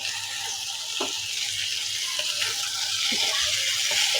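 Dried fish added to a pan of cooking taro stolons gives a steady, bright sizzle and hiss, with a few soft stirring clinks over the frying.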